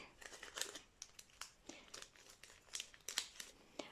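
Close, quiet crinkling of a small plastic bag holding a seedling, with irregular crackly rustles coming in quick bursts and no talking.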